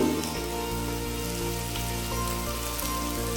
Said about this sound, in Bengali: এই মশলাগুলো আলুর সাথে ভালোভাবে মিশিয়ে আলু আবারও দু থেকে তিন মিনিট ভেজে নিচ্ছি